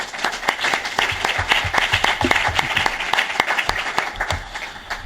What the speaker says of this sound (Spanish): un aplauso para los expertos